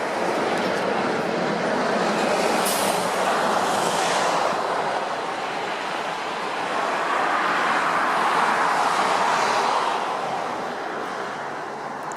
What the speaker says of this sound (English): And the trucks, my favorite.